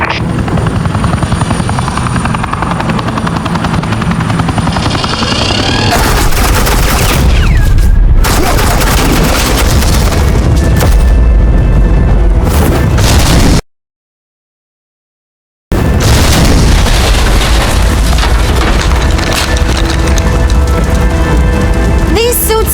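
Suppressing gunfire from Agent Quinn in the Batman: The Enemy Within video game: a loud, dense barrage with booms and a helicopter-like roar that continues, breaks off into a brief silence and then resumes.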